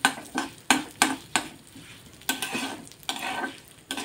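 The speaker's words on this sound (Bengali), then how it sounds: "একটু ডালিয়াটা যাতে ঘিয়ে ভাজা হয়ে যায়" Broken wheat (dalia) frying in ghee in a pan on low heat, with a soft steady sizzle and sharp repeated scrapes of a spoon stirring every few tenths of a second, close up, with no talk.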